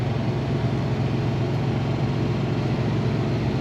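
A 1972 Chevrolet C10 pickup truck engine idles with a steady, even low rumble that holds constant throughout, close and moderately loud with no talking.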